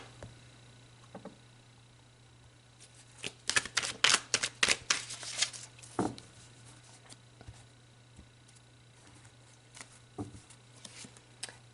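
Oracle cards being shuffled and pulled, a quick run of crisp riffling flutters in a quiet room followed by a few soft taps and slides of single cards.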